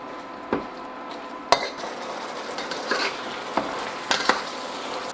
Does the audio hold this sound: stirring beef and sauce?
yes